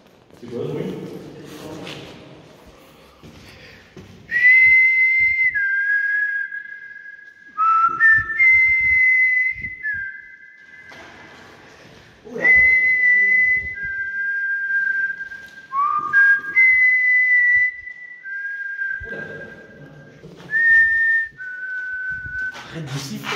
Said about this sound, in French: Arrête de siffler, ils vont nous tirer dessus.